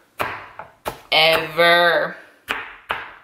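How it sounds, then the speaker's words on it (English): A knife chopping onion on a cutting board in a home kitchen, with sharp, close chops in an uneven rhythm. The chops pause briefly while a voice speaks a word. "The next thing I'm gonna cut up is some onion."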